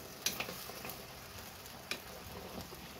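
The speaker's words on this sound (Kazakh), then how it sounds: "осы суы тартылғанша етті әбден қуырып аламыз" Chopped meat with offal fries and is stirred in a pot for Kazakh sirne, a soft continuous sizzle with a couple of sharp scraping stirs and no talking.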